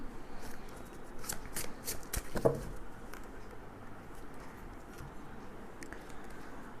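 Tarot cards shuffle and riffle softly in a quiet room, a few brisk flicks early on, then faint handling and rustling continue at low volume.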